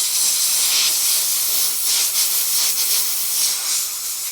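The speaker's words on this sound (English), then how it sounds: "Don't be too aggressive with the air compressor either." An air compressor nozzle blowing dirt off the spring of a Sovereign SV150 lawnmower, a steady loud breathy hiss that swells and eases over several seconds, close by with no speech.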